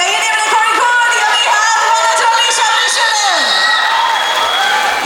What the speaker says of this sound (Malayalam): കയ്യടി എവിടെ കോഴിക്കോട്